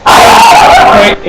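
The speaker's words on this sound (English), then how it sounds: "Sorry about the dog again." A pet dog gives a loud, close yelping bark that stretches into a whiny, strained call over just over a second, loud enough to dominate the moment.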